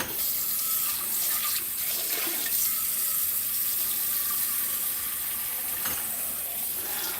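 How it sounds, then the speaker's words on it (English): Tap water runs steadily into a pot for cooking macaroni, making a continuous hissing, splashing stream at close range. A few faint clinks sound beneath the flow. "I'm gonna get my water on for my macaroni."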